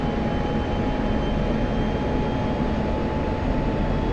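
Aircraft engine in the DCS flight simulator, throttle being advanced over the South Atlantic: a steady, loud, continuous jet roar with a fixed tonal whine, unbroken and with no talk.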